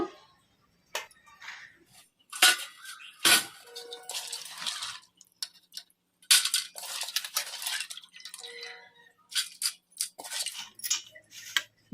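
Soaked black-eyed pea dal is tipped into a metal colander to drain, giving close, uneven bursts of rattling, clinking grains and clattering metal, separated by short quiet gaps.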